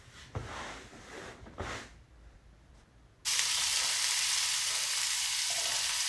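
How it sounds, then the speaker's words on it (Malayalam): Pieces of dried fish fry in a pan, a loud steady sizzle that bursts in abruptly and holds, preceded by a few quieter stirring and clattering sounds. "ഇനിയിപ്പോൾ അത് വറുത്തെടുക്കുകയാണ്."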